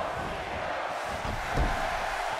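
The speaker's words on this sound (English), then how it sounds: "You hear this crowd? Yeah, bro, they're getting hype." Crowd noise from a wrestling video game arena, a steady roar that swells briefly near the end under the game's broadband hum.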